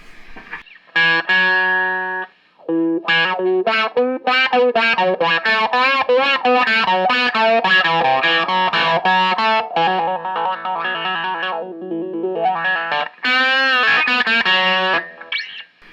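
Fuzzy, distorted electric guitar riffs through an MXR Classic 108 Mini Fuzz pedal with a wah and the buffer switch on, with a swooping wah effect, played loud and up close in a continuous stream of notes with brief pauses.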